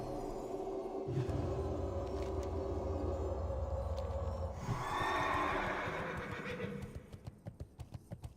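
A horse in World of Warcraft lets out a long, loud whinny in the game, then hooves clip-clop in a quick run of separate thuds as it fades, with no talking.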